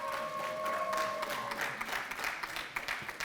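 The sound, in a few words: applause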